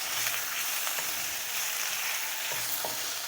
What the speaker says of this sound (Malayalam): ഇതിലേക്ക് ഇഞ്ചിയുടെയും വെളുത്തുള്ളിയുടെയും പേസ്റ്റും ചേർത്ത് കൊടുക്കാം ഇനി ഇത് നന്നായി ഒന്ന് ഇളക്കി കൊടുക്കാം